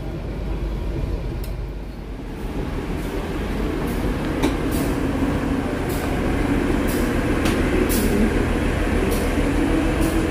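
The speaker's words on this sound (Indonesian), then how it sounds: "kereta api Pramex sudah tiba dan berhenti di stasiun Kutoarjo" A Pramex passenger train arrives and stops at Kutoarjo station, producing a steady low rumble with faint clicking and squeaks of wheels, heard at close range and fairly loud, without speech.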